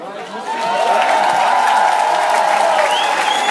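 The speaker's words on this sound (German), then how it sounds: "Beifall!" A large outdoor crowd applauds steadily after a laser show at a town tower festival in Luckau, the clapping swelling within the first half second and holding as a dense, continuous wash with a few faint shouts.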